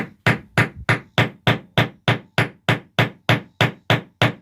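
A hammer strikes the edge of a flat metal sheet in a steady, evenly spaced series of about fourteen loud, close blows, each ringing briefly before the next.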